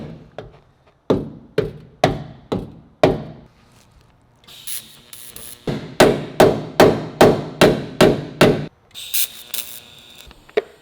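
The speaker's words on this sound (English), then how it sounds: "I'm kind of just moving the metal around, hammering it, tacking it into place" Sharp metallic hammer blows on sheet metal of a 1969 Chevy C-20 truck land in quick evenly spaced runs, a short burst, a pause, then a longer series of strikes, close and loud.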